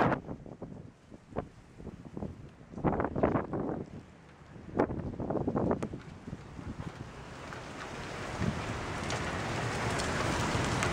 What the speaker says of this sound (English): Big drops of rain.